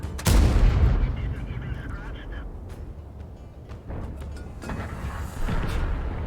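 Tank cannon fire in World of Tanks from a Strv 103B, a heavy booming shot at the start followed by rumbling engine and battle noise, with a second blast near the end.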